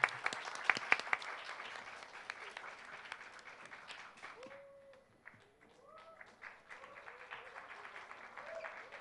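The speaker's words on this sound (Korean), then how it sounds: "큰 박수로 맞이해 주시죠." Audience applause welcoming the host on stage at a campus talk concert, a dense burst of clapping up front that thins into scattered claps and murmurs, with some faint talk in the room.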